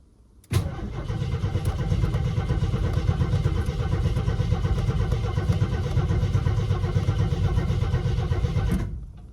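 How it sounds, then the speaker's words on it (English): An AMC Concord that has sat parked for 26 years cranks over continuously for about eight seconds, a loud, close, uneven churning of the starter and engine that begins abruptly and stops just as suddenly. "I'm gonna crank her over for a second, then I'll start giving her some gas"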